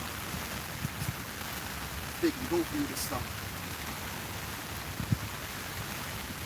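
Steady rain falls outside as a continuous hiss at an outdoor camp gathering, with someone speaking briefly over it.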